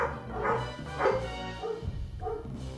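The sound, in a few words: dog barking in video game Suikoden III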